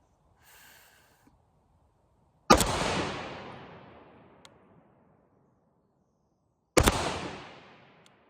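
Two loud, sharp shots from a C308 rifle firing X-Tac rounds, several seconds apart, each with a long echoing tail that fades out, plus a faint breath before the first shot.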